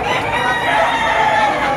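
Chickens at a busy poultry market in Lipa City, Batangas cluck and crow close by, a rooster's call standing out over a steady bed of crowd noise and faint chatter.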